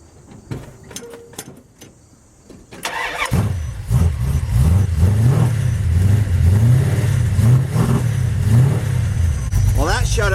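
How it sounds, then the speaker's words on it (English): A Dodge truck with a 5.9 Magnum engine and a new header gasket makes a few clicks and knocks, then cranks and fires on a cold start, settling into a loud, close, rough rhythmic idle with brief talk early on. "Cold start, of course."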